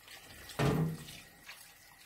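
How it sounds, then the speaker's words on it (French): Water pours into a cooking pot for caramelised Hong Shao pork ribs in a short, quiet splash that swells briefly and then fades to a low trickle. "Donc de l'eau à hauteur."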